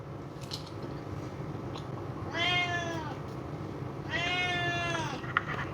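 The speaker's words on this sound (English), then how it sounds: "He's meowing. He's hungry." A hungry cat meows twice, two drawn-out mid-pitched calls a couple of seconds apart, close by over a low background hum.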